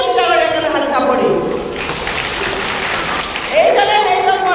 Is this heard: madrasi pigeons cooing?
no